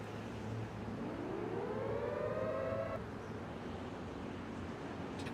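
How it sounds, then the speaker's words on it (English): A civil defense siren in the DayZ video game winds up in a rising wail for a couple of seconds and then cuts off abruptly, sounding distant and glitchy over a steady background hum. "I don't know why the siren sound is so broken."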